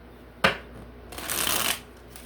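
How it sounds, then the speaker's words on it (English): A sharp card tap followed by a brisk riffle of shuffling tarot cards, close and clear, then quiet. "let's shuffle this one. Hard shuffle."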